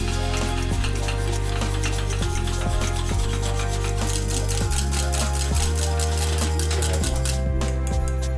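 A milk mixture for a pandoro Christmas cake is whisked in a bowl, giving a continuous quick scraping, rubbing rhythm under steady background music.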